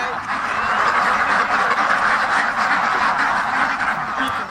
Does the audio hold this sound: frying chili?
no